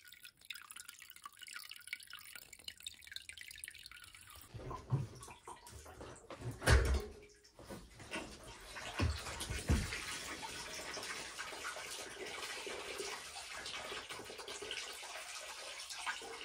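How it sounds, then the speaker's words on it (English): Water draining from a domestic radiator into a bucket, faint dripping at first, then a louder burst of splashing and trickling midway, settling into a steady soft pour of water, with no talking. "Open the bleed point in a second to allow air in, so the water will come out the bottom"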